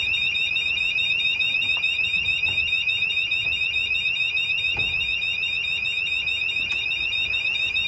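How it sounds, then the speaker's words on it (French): An alarm clock rings aboard a racing trimaran in the Indian Ocean, a steady high electronic beeping that repeats continuously throughout, close and loud over a low background rush of wind and sea. "Voilà, petite alarme."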